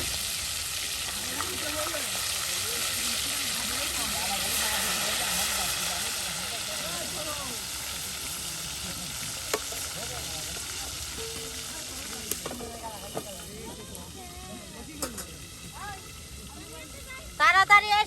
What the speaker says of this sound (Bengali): একদম ভলকানো তেলে দেখুন মাছগুলো কিন্তু ভেজে নেওয়া হচ্ছে।